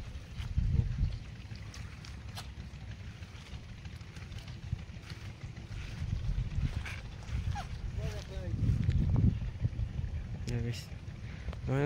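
A small wooden boat's engine runs with a low, uneven rumble while someone talks over it at length, with occasional wind buffeting the microphone.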